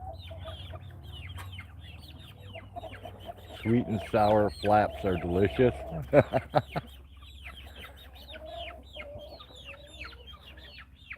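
A young rooster and hens on a farm make a burst of loud clucking and squawking calls partway through, amid quieter scattered bird chirps, with a voice speaking briefly over it.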